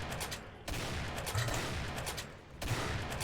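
Rapid gunfire from the Demonsteele mod for Doom fills the clip in dense, sustained bursts, broken by two short gaps, loud and close with no voice over it.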